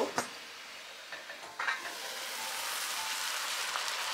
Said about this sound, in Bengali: মাংসটা রান্না হচ্ছে এখানে